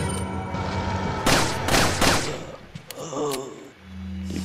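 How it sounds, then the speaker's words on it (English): Gunfire from Resident Evil 4 rings out in a few loud, close blasts with reverberant tails over a low game background hum, followed by a brief gap and more scattered sharp hits. "You die when I shoot you."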